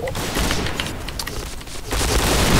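Grenade blasts and gunfire in the shooter game Point Blank: loud, dense booming bursts fill the stretch with steady broadband roar, and someone shouts under the din.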